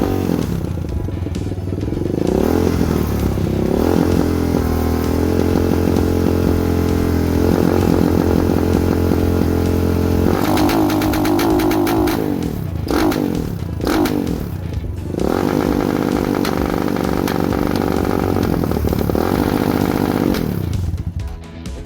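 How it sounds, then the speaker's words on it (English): A Lifan KP Mini 300 4v ZS175FMN engine swapped into a motorcycle revs hard to redline with varying throttle, loud and close, its buzzing roar rising and dropping repeatedly through blips and sustained high revs. "just wanted to show y'all what it sounds like at redline and different profiles on the throttle"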